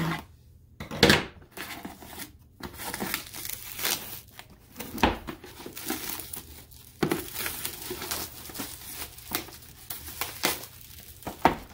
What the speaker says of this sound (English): we'll cut the back because the front of the box is nice